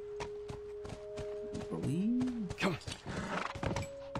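Horse in The Last of Us video game moving at pace with hoof clip-clops, a whinny-like tonal call midway, steady game tones and someone talking over it.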